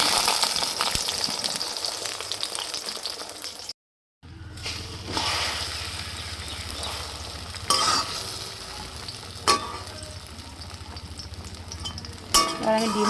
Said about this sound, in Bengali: এবার আমি ডিমটাকে ঢেলে দেবো।